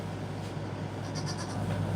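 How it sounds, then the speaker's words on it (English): A goat bleats on a farm, a short, fairly faint cry heard over constant low background hum and farmyard noise. "it's a goat, not a sheep"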